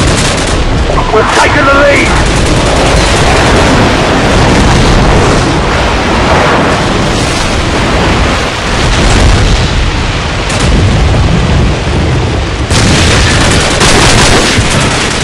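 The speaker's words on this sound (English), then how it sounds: "Airstrike on the way." Airstrike explosions in Call of Duty 4 team deathmatch, continuous heavy booming blasts and rumbling gunfire filling the whole stretch at high volume, with a voice speaking briefly over the din.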